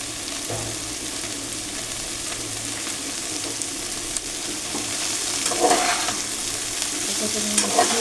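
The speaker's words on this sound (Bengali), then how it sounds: "এটা মূলো শাক, ছোটো ডাঁটা শাক একসঙ্গে মিক্স করে ভাজবো।" Radish greens and small amaranth greens stirred together and fried in a pan give a steady close sizzle with scraping stir strokes that grow busier toward the end.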